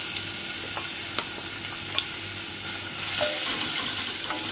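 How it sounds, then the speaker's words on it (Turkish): Chopped medium onions frying in hot oil, a steady close sizzle with occasional stirring clicks and scrapes in the pan, no one speaking. "Isınan yağın içerisine bir adet yemeklik doğradığım orta boy kuru soğanı ekliyorum."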